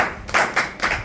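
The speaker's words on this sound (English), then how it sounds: "Give him a round of applause." A small audience claps in a few uneven bursts, close and fairly loud, for a short round of applause.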